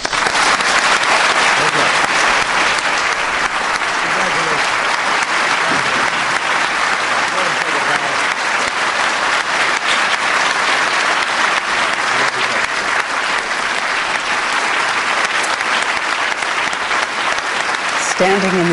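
White House staff and family members in the East Room applaud a newly named Supreme Court nominee, dense, loud, sustained clapping that fills the room, with voices mixed in.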